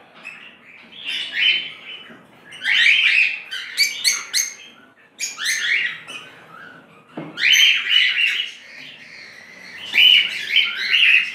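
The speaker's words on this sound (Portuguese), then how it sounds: "Aqui eu tenho um casal autossexado de agapornis também." Captive lovebirds (Agapornis), a pair of violet opaline and lancewing birds, chirp and squawk in shrill, bursty clusters close by, with brief pauses between the repeated calls and no talking.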